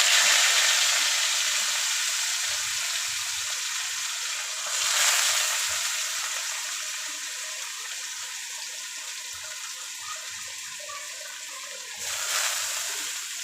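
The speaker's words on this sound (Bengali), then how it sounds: "এই উচ্ছেগুলো আমি তেলের মধ্যে দিয়ে দিচ্ছি" Bitter gourd dropped into hot oil for frying sends up a broad hissing sizzle, loudest at the start and easing off, with two brief bursts of renewed crackle and no voices.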